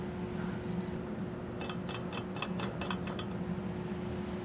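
A ratchet clicks in quick bursts, tightening flange nuts onto air spring brackets on a 2023 Ford F-250. The clicking is close and moderately loud over a steady low hum, with no talking.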